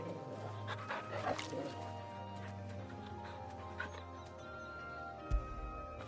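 A dog in Final Fantasy XVI gives a few short barks and soft whimpers over quiet game ambience, with a brief thump near the end.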